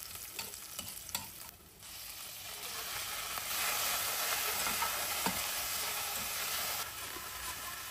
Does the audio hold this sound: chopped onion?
yes